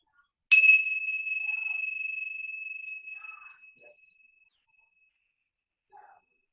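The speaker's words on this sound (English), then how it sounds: "I'm going to ring this bell again, and I want you to pay very close attention to the last 5 seconds until you can't hear the sound of the bell" A mindfulness bell is struck once and rings with a clear, sustained tone that slowly fades over several seconds into near silence.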